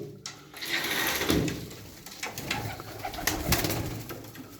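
A loft of pigeons keeps up steady low cooing, overlapping calls swelling and fading through the stretch, with light flutters and scratchy clicks mixed in.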